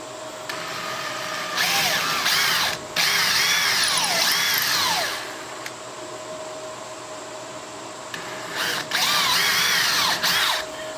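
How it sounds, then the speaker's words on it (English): A power drill with an 1/8 inch bit whines loudly in several bursts while pre-drilling holes in wood for a deadbolt, pitch rising and falling as the bit bites in, separated by short pauses and a quieter stretch. "I'm going to go ahead and pre-drill my holes with an 1/8 inch bit"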